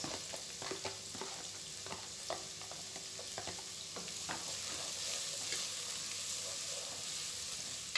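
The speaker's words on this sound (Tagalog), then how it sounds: "igigisa ko na yung mga carrots and green beans" Carrots and green beans sauté in a pan with garlic and ginger, a steady soft sizzle under faint intermittent stirring taps, fairly quiet throughout.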